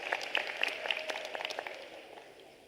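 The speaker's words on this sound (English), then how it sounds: "Let's give a round of applause," A round of applause from the audience at a University of South Africa autumn graduation ceremony in a large hall, many hands clapping steadily at moderate volume and gradually tapering off toward the end.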